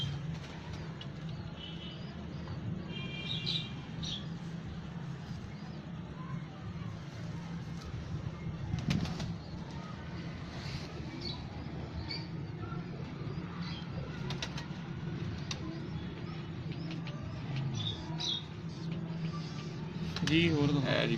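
Low, continuous cooing from Faisalabad pigeons hums beneath near-constant male speech, with occasional faint chirps and a soft flutter of wings.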